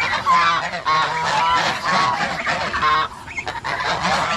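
Several farmyard geese honk loudly and repeatedly close by in a rapid, overlapping chorus that briefly thins out before picking up again.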